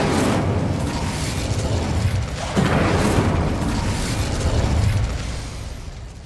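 Incendio fire spell cast in Hogwarts Legacy, a loud roaring, booming whoosh of flame that swells and sustains for several seconds before easing off.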